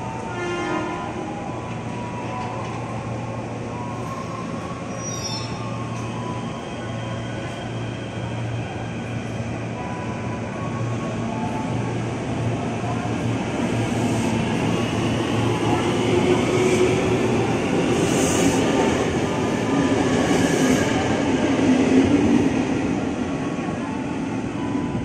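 A KRL Commuter Line electric train rolls past at Jatinegara station with a continuous rumbling roar that gradually swells as it passes, accompanied by a sustained horn note early on.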